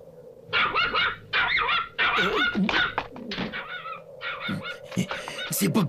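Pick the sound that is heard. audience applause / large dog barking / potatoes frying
large dog barking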